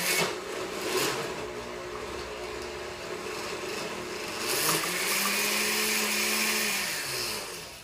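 A blender making hummus runs steadily and loudly for the whole stretch, its motor whining with a rattling churn and slight shifts in pitch.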